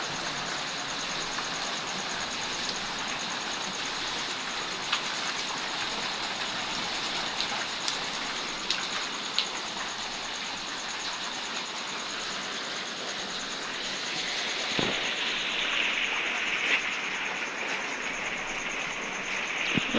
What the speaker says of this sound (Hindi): रात से बारिश आ रही है, रात से बारिश लगी हुई है